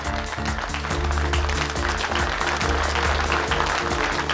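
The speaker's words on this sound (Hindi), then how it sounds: "जोरदार तालियां।" An audience at a modeling event gives loud, sustained applause as the judges are welcomed, dense continuous clapping over a low musical backing with no talking.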